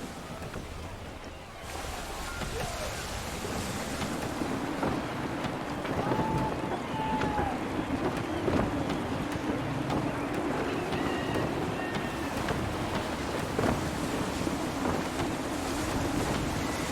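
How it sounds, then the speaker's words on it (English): Gusty sea wind in the video game Assassin's Creed III, a steady broadband roar with surf-like wash rising and falling over the whole stretch, alone with no talk. "Gusty winds can be difficult to manage."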